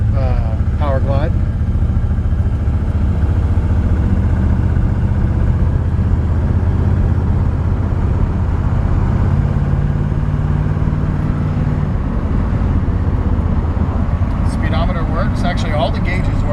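A 1955 Chevrolet Bel Air with its original 265 V8 and Powerglide transmission runs with a loud, steady low engine rumble close by, and brief voices appear at the start and end.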